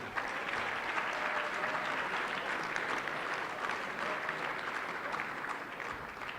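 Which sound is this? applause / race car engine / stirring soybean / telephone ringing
applause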